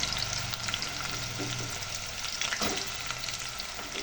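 Half a kilogram of mutton keema frying in a pan with onions, a dense continuous sizzle with occasional stirring scrapes, close and steady with no talking.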